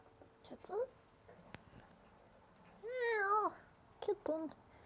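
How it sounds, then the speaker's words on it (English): A cat meows in a few short calls near the start and end, with one longer, drawn-out meow in the middle, fairly close against a quiet indoor background. "Kitten."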